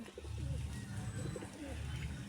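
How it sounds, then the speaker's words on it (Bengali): Low, throaty coos from Giribaz pigeons repeat steadily through the clip, several birds murmuring together close by against a soft background hum. "যে পায়রা সব গিরিবাজ পায়রা"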